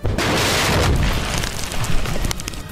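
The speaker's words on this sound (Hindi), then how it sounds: "जब उसमें धमाका हुआ तो पूरी बिल्डिंग भरभराकर जमीन में जा मिली" An explosive blast destroying a house in the West Bank, a loud sustained rumbling roar of collapse that fades, with a second surge near the end.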